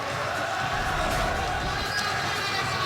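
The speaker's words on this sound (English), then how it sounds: "this pro-Duke crowd enjoying every minute of this one" A steady wash of crowd noise fills an arena during a Temple Owls vs Duke Blue Devils college basketball game, with a commentator talking over it.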